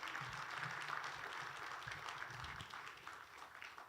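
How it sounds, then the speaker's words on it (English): An audience at a district economic development and investment summit applauds in a faint, distant wash of clapping that holds steady and then tapers slightly toward the end. "Another round of applause, please."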